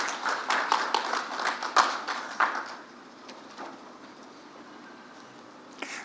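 Brief clapping from a conference audience welcoming a speaker, fairly light and sparse, fading after a few seconds into quiet room tone.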